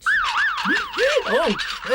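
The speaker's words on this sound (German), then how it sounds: "jetzt wollen wir doch einmal schauen, ob die Sirene noch geht" A wailing siren sweeps up and down in quick repeated cycles, loud and close, with a second lower wail joining partway through.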